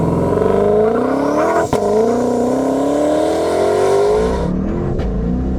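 A twin-turbo Shelby GT500 race car engine roars loudly and steadily on a half-mile track, its pitch climbing through the gears with a brief dip at a 2-3 shift, then dropping off near the end.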